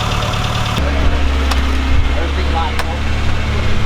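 A Classic Mini 1275 SPi engine idles steadily with a fresh water pump, its low, even mechanical drone running throughout with a few faint clicks and a brief shift in tone partway.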